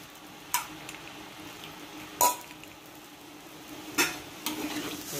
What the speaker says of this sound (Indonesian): Agak sedikit diaduk sedikit ya.